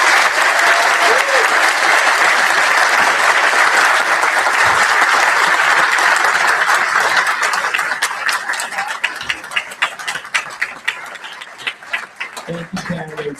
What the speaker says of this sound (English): If we could all please give these candidates a big round of applause.